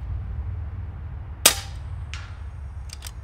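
An FX Maverick air rifle firing 34 grain pellets: one sharp, close crack followed by a fainter report half a second later, then two quick faint taps, over steady low background rumble.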